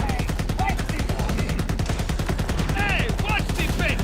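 Vehicle-mounted guns in Borderlands 4 fire a rapid, continuous, steady stream of loud shots throughout, with chirping electronic effects and a voice occasionally over the barrage.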